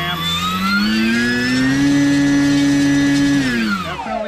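An electric model airplane motor runs at half throttle with a steady, close whine that climbs slightly in pitch, holds, then winds down near the end.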